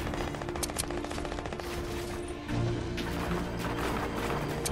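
Rapid bursts of video game gunfire, played over a laggy hotspot connection, run as a dense, continuous stream at moderate volume with no break.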